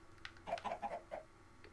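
A few soft, quick clucks from Minecraft chickens, faint and close together, lasting only a moment in a quiet setting.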